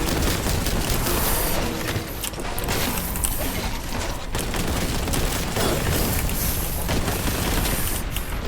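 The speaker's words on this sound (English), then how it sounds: "I really like that rocket launcher. It does the big explode." Dense, continuous gunfire and blasts from rocket launcher explosions in the shooter game Warhammer 40k: Boltgun, a loud, relentless barrage of booms and mechanical clatter with no clear pauses.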